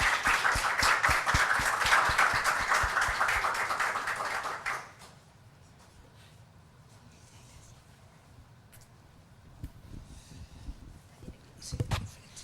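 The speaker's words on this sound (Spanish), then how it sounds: "démosle la bienvenida con un muy fuerte aplauso" An audience applauds in welcome of the poet Raúl Zurita, sustained loud clapping that stops after about five seconds, followed by quiet room sound and a few faint knocks.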